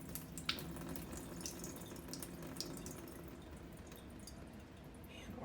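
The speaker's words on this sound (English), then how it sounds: "And we pour off the water again." Water poured off settled strawberry seeds in a container, a faint continuous trickle with scattered small drips and splashes, fairly quiet and close.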